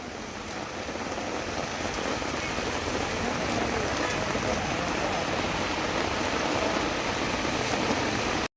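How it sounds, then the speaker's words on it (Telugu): Heavy rain pours down steadily on a vegetable vendor's stall, a dense, loud hiss of drops on surfaces that continues without pause before cutting off abruptly. "మంచిగా అందుకుంది వర్షం, గట్టిగా అందుకుంది"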